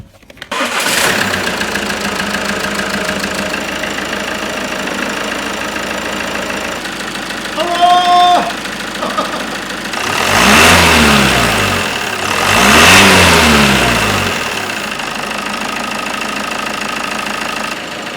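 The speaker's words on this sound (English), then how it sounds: "I think it's about time to start the engine then." A Mk5 Ford Mondeo with a replacement engine cranks and fires up on the first turn, then idles steadily with two loud revving surges that rise and fall before settling back to idle.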